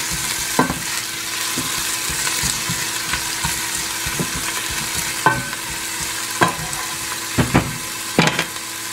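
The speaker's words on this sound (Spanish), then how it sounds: "Los dientes de ajo picaditos. Esperar que se guisen un poquito." Finely chopped garlic cloves fry in a pan with a continuous close sizzle, while repeated scraping clicks from a spoon stirring them stand out at irregular intervals, with no talking.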